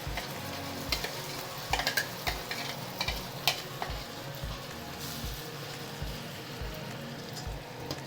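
Fresh tomatoes cook in a pan with spinach for a tofu spinach curry, making a soft, fairly quiet sizzle broken by irregular clatters and scrapes of stirring.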